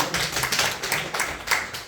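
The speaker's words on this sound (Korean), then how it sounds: "여러분 박수 한번 쳐주세요" Audience clapping at a church youth service, a steady burst of applause from a crowd, fairly close and continuous for a couple of seconds with no talking.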